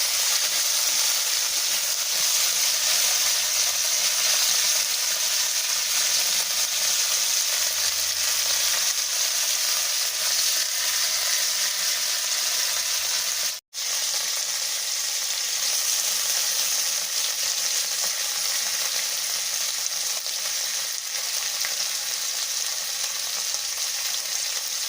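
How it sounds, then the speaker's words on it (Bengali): Bitter gourd slices frying in hot oil, a loud continuous hiss and sizzle holding steady for the whole stretch with faint stirring underneath and one brief dropout midway. "গরম তেলে এবার এই উচ্ছেগুলোকে আমি দিয়ে দেব। এবার এটাকে নেড়ে চেড়ে ভাজতে থাকবো।"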